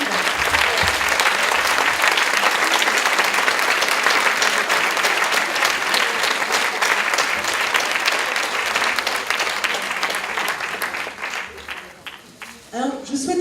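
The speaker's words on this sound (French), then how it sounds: "je vous demande de les applaudir chaleureusement." A conference audience applauds warmly at an evening event on women's entrepreneurship, dense sustained clapping that fades toward the end as a voice begins speaking.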